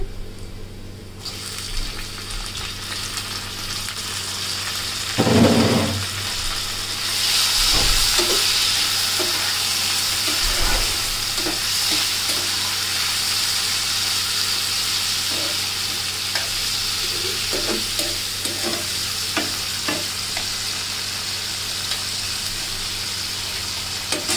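Prawns hitting a pan of fried garlic, onion, turmeric and salt set off a loud sizzle that settles into a steady frying hiss, with scattered stirring clinks and scrapes and no talking.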